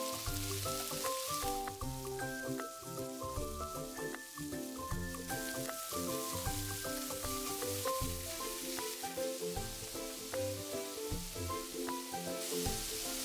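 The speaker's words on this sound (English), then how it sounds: "And minced pork, stir fry." Minced pork stir-fries in a pan for mapo tofu, sizzling and crackling steadily with a scraping, stirring rhythm throughout. The sound is close-up and fairly quiet, with no talking.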